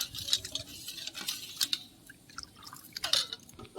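A spoon stirs sugar, watermelon juice and cornflour together in a bowl, giving quiet, irregular clinks against the dish with soft liquid swishing and scraping between them.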